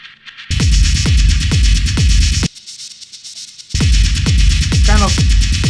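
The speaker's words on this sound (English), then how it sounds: "this kind of very rhythmical, raw, noisy texture effect" Raw, noisy techno rhythm from an Ableton rack: a driving pattern of punchy thuds under a hissing, distorted noise bed, briefly dropping out in the middle before returning at full level, loud with no voices.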